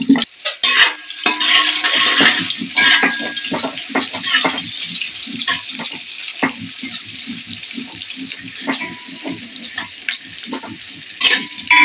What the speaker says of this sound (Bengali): পেঁয়াজটা বেশ ভালো করে একটু হাফ ভাজাই করব, বেশি করব না ভাজা।